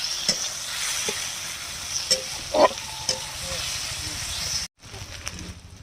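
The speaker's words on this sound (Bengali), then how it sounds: "ওই মাছ ভাজার তেলেই আমি পেঁয়াজ দিয়ে দিচ্ছি" Onions go into hot oil left over from frying fish, hissing and sizzling steadily close up with a few sharp crackles and stirring scrapes; the sizzle briefly cuts out near the end.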